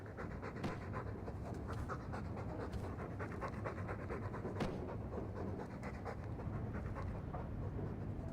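A dog pants steadily in the fantasy role-playing game Dragon Age 2, quick rhythmic breaths running close and continuous throughout with no talking.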